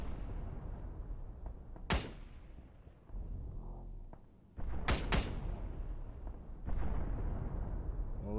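Incoming artillery rounds in ARMA 3 land as a string of heavy explosions, a sharp blast near two seconds and a louder cluster around five, each crack followed by rumbling amid constant battle noise, with no talking.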